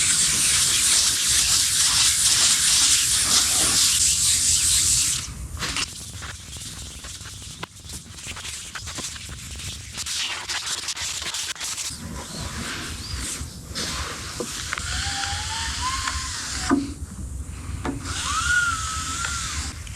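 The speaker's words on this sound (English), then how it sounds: "I'm going to wet sand it with 400 grit" Wet sanding a concrete top by hand with 400 grit sandpaper, a steady close rasping scrub that shifts in strokes and pauses, with no talk.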